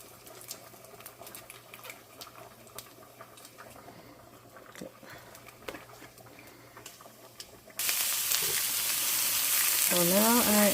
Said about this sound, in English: So now I am just sauteing these onions just a little bit to get the flavor into the onions.